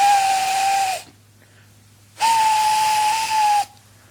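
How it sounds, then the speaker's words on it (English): A steam engine's whistle blows in two long, steady blasts with a hissy edge, separated by a short pause, heard alone and fairly loud, as if drawing nearer from a distance. "far away, but getting louder and louder, was the sound of an engine's whistle"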